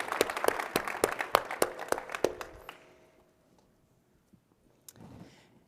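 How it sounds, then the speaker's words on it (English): Conference keynote audience at DrupalCon Portland applauding, a burst of dense clapping that thins out and fades after a few seconds, leaving the room nearly quiet with a faint stray sound near the end. "So a big round of applause."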